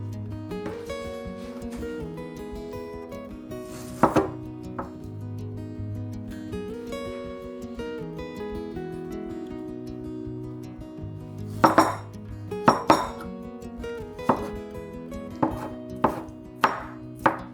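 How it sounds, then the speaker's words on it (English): A knife chops tomatoes into small pieces on a board in a home kitchen, with intermittent sharp taps and clusters of quick cuts, some clinks of utensils, over a steady background hum. "Cut the tomatoes into small pieces and set aside."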